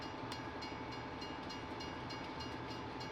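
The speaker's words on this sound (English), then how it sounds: "here comes the train" A passing train rumbles and clatters steadily on the rails near rural cornfields in Griffin, Indiana, a continuous dense roar with faint rhythmic clicks and no talking.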